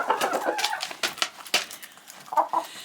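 Chickens in a coop cluck and chatter in short, overlapping bursts, fairly soft and continuous, with no voices over them.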